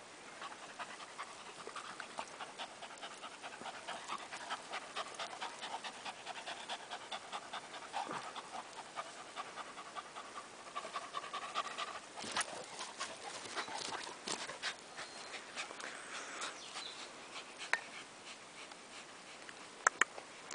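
A Dobermann dog panting steadily in rapid, breathy bursts, close and fairly soft, continuing alone throughout with a few sharper sounds near the end.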